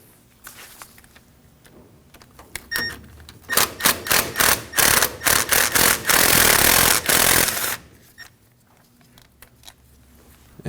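Ratchet loosening an 8 mm bolt holding the ABS wire on the steering knuckle of a 2009-2014 Ford F-150: a quiet start, then a quick run of sharp, rapid clicking strokes for about four seconds before it fades to near silence.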